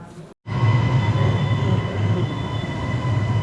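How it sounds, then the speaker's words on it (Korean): Subway train rumbling steadily through a station or tunnel in Mexico, loud and close with a strong low roar and faint squealing tones, starting after a brief gap of silence, no talk. "또 지하철 타기."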